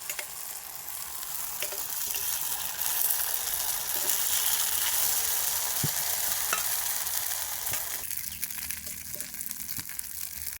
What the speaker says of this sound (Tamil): தேங்காய் கடலைப்பருப்பை வந்து வறுத்து எடுத்து வச்சுட்டேங்க